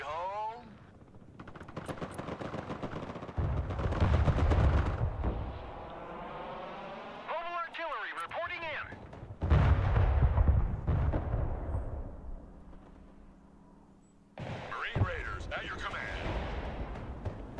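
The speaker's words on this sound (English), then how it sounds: "Rocket artillery at your disposal," MLRS rocket artillery firing in the game Broken Arrow: loud bursts of rapid launches and heavy blasts fill the mix, interrupted by whooshing sweeps and quieter stretches, with players talking at times.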